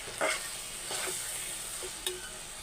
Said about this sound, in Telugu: సో మొత్తం అయితే కలిపేసుకోవాలి